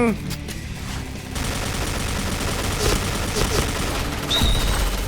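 Rapid rifle gunfire from an HK416 in the shooter game Point Blank, bursts of shots running fairly loud and continuous through the clip over busy game ambience, with a voice talking now and then.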